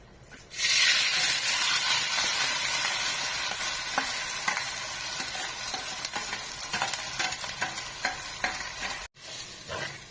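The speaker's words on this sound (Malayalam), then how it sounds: "അരി ഇതിൽ നന്നായിട്ടൊന്ന് വഴറ്റണം." Rice grains stirred and sizzling in hot oil in a pan with whole cardamom, cloves and cinnamon while making chicken biryani; a loud, steady frying hiss with scraping stir strokes running throughout.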